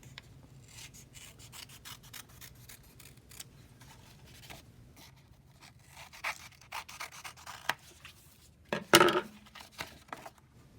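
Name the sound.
scissors cutting curved lines in paper for woven Easter basket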